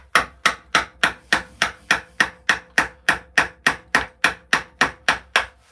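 Evenly spaced sharp knocks, around fifteen in under six seconds, as a deep woodcarving gouge is struck into wood, each one a close, crisp tap with a quick decay and no voices.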